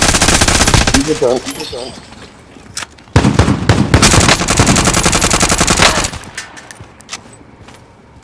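Heavy automatic gunfire in a Warzone Resurgence quads match, loud, dense bursts with a short lull near the middle, while squad voices talk over it.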